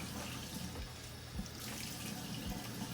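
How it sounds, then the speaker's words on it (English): Kitchen faucet running steadily while shredded slaw is rinsed beneath it, a soft continuous water rush with faint splashes against the sink, fairly quiet and alone. "And then I'll take some of the slaw, rinse that as well too."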